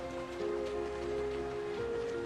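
Soft patter of rain falling steadily, with a sustained musical tone droning over it and no talking.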